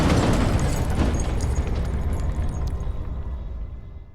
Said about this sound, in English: The game ends after the explosion